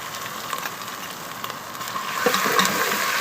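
Onions frying with ginger-garlic paste in a pot, a continuous close hiss and sizzle that grows a little louder toward the end, no talking.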